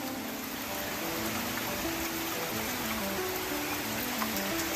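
Steady rain patters and hisses close by around beehives, a constant wash of drops with no voices.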